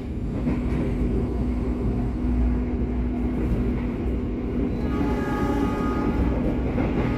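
A train runs straight through Purwosari station without stopping, a steady loud rumble of wheels and rail carrying on throughout, with a faint tonal whine rising near the end.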